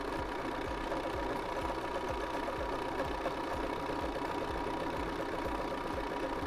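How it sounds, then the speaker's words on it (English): A Bernina sewing machine with its automatic buttonhole foot #3A runs a buttonhole, a steady close mechanical hum with rapid regular stitching thumps throughout, no voices. "All you have to do is set your foot down on the mark and tell it to go, and the machine will do everything else for you."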